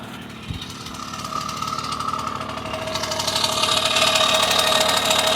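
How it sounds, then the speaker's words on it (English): A 1974 Honda MR50 motorcycle engine idles steadily up close, a busy mechanical rattle that grows a little louder and rougher as the idle is raised, with no talking. "going to turn my idle up just a bit."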